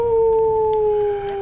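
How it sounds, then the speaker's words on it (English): A wolf howl emote in a video game sounds as one loud, sustained tonal howl that slowly falls in pitch, close and clear with no talk over it. "Here's the howl."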